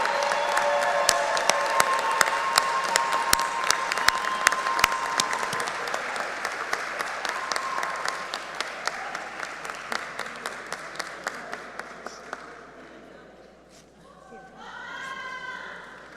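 Applause from a ceremony audience for mechanical engineering graduates at an Order of the Engineer event, dense sustained clapping that thins into scattered claps, then fades to murmuring voices near the end.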